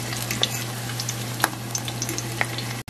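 Cod fish fritters (bacalaitos) frying in oil in a pan, a close, steady crackling sizzle with occasional sharper pops, alone and continuous.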